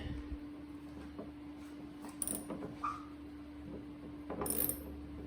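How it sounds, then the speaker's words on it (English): A 7mm hex socket turns the headlight adjuster on a 2007-2014 GMC Yukon, giving faint, sparse ratcheting clicks and small mechanical ticks over a steady low hum, with a couple of slightly louder bursts. "what you're going to need to do the adjustment with is a 7mm socket"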